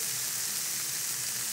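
Langoustine and fish fry in a pan with a steady, bright sizzle that stays close and even throughout, no talking.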